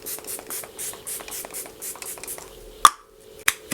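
Quick Fix makeup setting spray misted from a pump bottle: a series of soft, rhythmic hissing bursts, then a couple of sharper pumps with brief pauses, close and fairly quiet with no talking.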